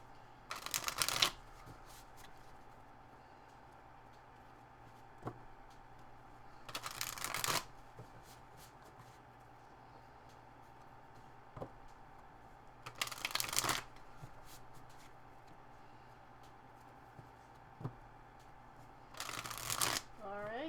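Tarot cards are shuffled in four separate bursts spaced evenly apart, each a crisp riffling flutter, with quiet room tone and a few faint taps in between.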